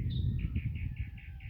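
A mockingbird chirps a quick series of about six short, soft whistled notes at a steady rhythm, faint and alone over low background rumble.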